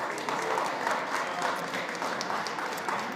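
A round of applause from the audience at a food summit panel at SXSW, brisk continuous clapping from a sizeable crowd, fairly loud and even throughout.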